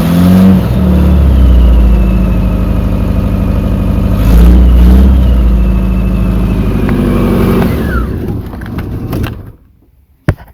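A Rover SD1 engine revs steadily and loudly, the pitch climbing over several seconds with a brief surge midway, then dropping away as it is shut off, leaving near silence and a final clunk.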